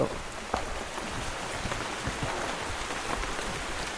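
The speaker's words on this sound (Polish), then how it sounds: "Idziemy wam na ten deszcz." Steady rain falls outside a hostel in Guatemala, a continuous close patter on hard surfaces with occasional louder drops.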